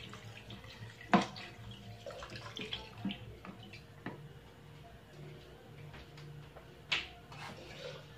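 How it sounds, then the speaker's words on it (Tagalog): Water is poured into a pot of pork sinigang with radish, a faint, steady splashing pour broken by a few sharp clinks of pot and utensils in a quiet kitchen. "dagdagan natin ng tubig."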